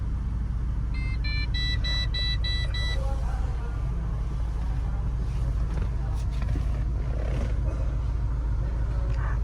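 A car with a loud, noisy engine idles and runs with a heavy, continuous low rumble, joined early by a few short electronic beeps, while voices talk faintly nearby.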